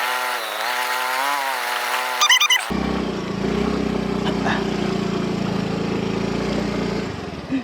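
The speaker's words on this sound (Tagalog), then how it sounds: "Pero pinilit ko pa rin i-drive ang aking motor." A motorcycle engine revs and labors continuously across a rocky, uneven off-road track, loud and close, after a brief stretch of music at the start.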